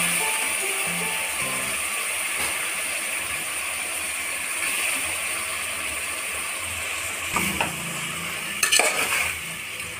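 A pan of cluster bean (gokkarakaya) curry being stirred, with steady scraping and mixing over a continuous sizzle, plus a few louder clattering strokes near the end; no talking.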